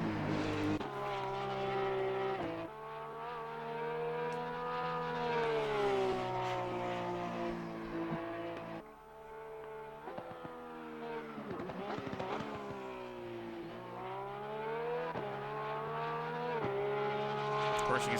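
A Porsche 911 GT3 R race car engine in Assetto Corsa Competizione at Snetterton drones loudly and continuously, rising in pitch through each gear and dropping sharply on upshifts and braking, with a brief lift before climbing again.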